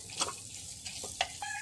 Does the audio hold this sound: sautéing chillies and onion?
yes